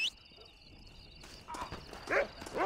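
Horse hooves in the Western video game Red Dead Redemption, a short run of faint clip-clop steps against quiet game ambience, followed by louder bursts of game effects near the end.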